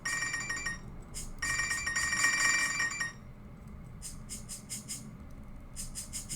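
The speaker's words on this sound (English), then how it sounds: "Right now I've got this melodic thing I put in, but it sounds too much like a telephone ringing." A melodic warning tone for pop-up spikes in the game Godkiller sounds much like a telephone ringing, with bright trilling bursts that repeat in short groups, louder at first and then as quicker, fainter pulses.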